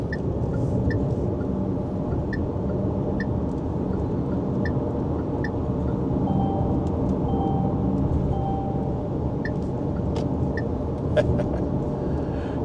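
A Jetour Dashing car is driven in manual mode using its paddle shifters, a faint steady road and engine rumble inside the cabin, with occasional soft clicks and a brief rising engine tone midway.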